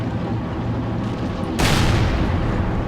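A tank gun firing in World of Tanks lands as one sharp, heavy boom partway through, cutting over a low rumbling engine bed and leaving a sustained roar behind it.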